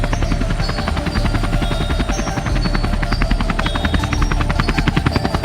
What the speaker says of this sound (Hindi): अरे ये क्या, ये तो हेलीकॉप्टर है